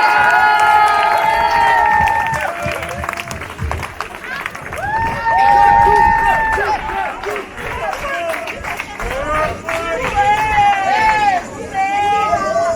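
A neighbourhood festival crowd in Valdegour cheers and shouts for Jean-François Pascal. Voices rise in a lively, loud hubbub, with a few claps mixed into the steady babble of many people.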